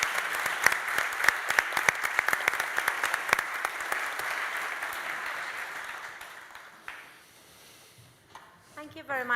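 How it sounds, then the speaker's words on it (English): Conference audience applause for the panelists, with loud clapping and a few sharp claps up front. It fades out over several seconds, then a voice starts speaking near the end. "Please give them an applause"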